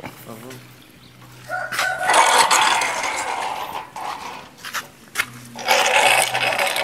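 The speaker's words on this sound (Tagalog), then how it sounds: "Ayun yung mga manok namin." Backyard chickens cluck and a rooster crows in bursts over steady outdoor noise, with scraping sounds and brief pauses between the calls.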